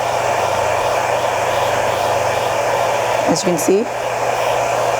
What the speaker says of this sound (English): As you apply the heat, the film will slowly start to stretch